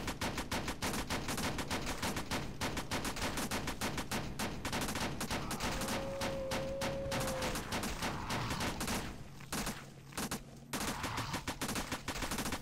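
A sentry gun in SAS: Zombie Assault fires at zombies in a dense, nonstop stream of rapid shots that continues for the whole span, with only a brief thinning near the end.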